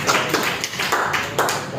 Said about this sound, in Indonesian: saya beri aplaus pada kelompok dari